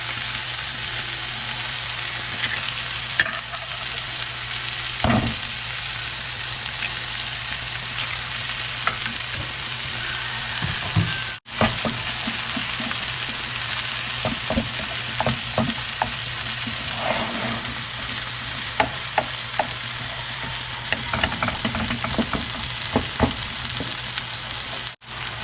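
Eggs fry in a pan with a steady, close sizzle and crackle that continues throughout, broken by occasional clinks and scrapes of stirring.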